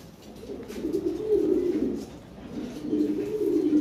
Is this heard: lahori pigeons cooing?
yes